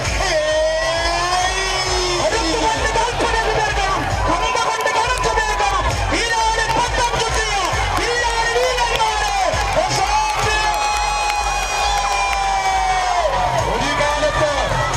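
A crowd of spectators at a tug-of-war match cheers and claps continuously and loudly, with a voice talking over the noise throughout.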